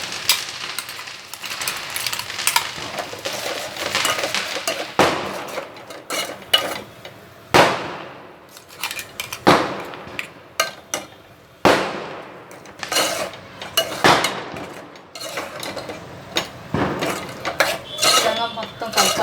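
Ground masala paste goes into a pan of onions for a banana flower curry, with loud, repeated spoon clanks and scrapes against the metal pan over a steady hiss, no voices.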